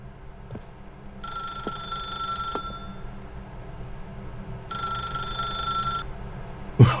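A telephone in the video game Stanley Parable 2 rings in two separate bursts of bright, steady electronic ringing, with quiet ambience in the pauses.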